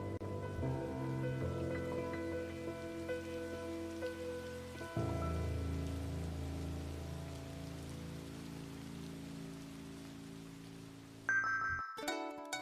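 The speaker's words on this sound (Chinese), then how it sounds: "有点下雨哦。" Rain falls steadily outdoors, a dense, even patter on surfaces that thickens noticeably partway through, then gives way near the end to a brief burst of other clattering noise; no one speaks.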